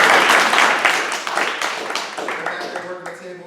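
A room of neighborhood association meeting attendees claps, starting loud and dense, then thinning into scattered individual claps as it fades over a few seconds, with faint voices underneath.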